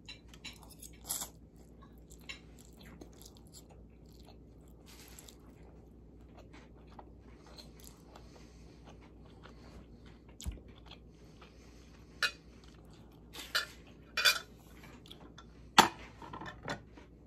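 Someone eats protein pasta with tomato and feta, with quiet chewing and occasional sharper crunches and cutlery clicks spread over a calm, near-silent room.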